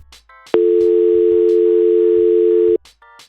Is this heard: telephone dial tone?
yes